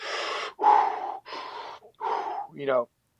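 A man demonstrates heavy Wim Hof breathing technique, four forceful, loud, close breaths in an even rhythm followed by a short voiced exhale, all up close with nothing else around.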